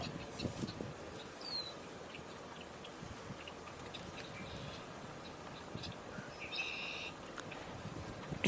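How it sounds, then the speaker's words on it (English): A red-winged blackbird singing late in September, heard in a few short distant phrases over a noisy outdoor background. "Interesting to hear, you know, a red-winged blackbird sing this late in the year."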